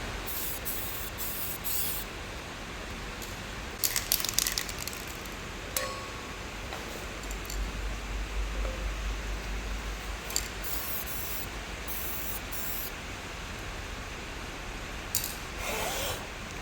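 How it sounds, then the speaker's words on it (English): Magnetic particle tester spraying onto a cracked final drive spindle from a CAT 793 mining truck, heard as a few short hissing bursts over a steady low workshop hum, with no talk. "use our mag particle tester to test the area again"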